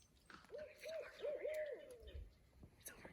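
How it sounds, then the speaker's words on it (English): An owl hoots at sunset on Paynes Prairie, a short run of several soft, rounded hoots in quick succession, moderately distant and faint over quiet outdoor background. "The sun's setting, but the owl's already out."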